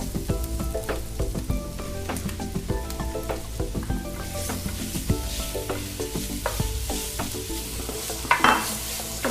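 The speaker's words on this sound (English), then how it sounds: "Just going to give them a quick little stir around the pan, just to mix them in with the onions" Shrimp stirred in a pan with onions and toasted cumin for a Moroccan seafood dish, a continuous close sizzle broken by frequent clinks and scrapes of a utensil against the pan.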